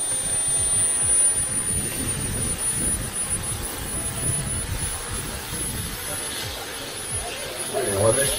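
A helicopter turbine engine runs with a steady, loud jet-like whine and roar that fills the whole stretch, with voices talking over it.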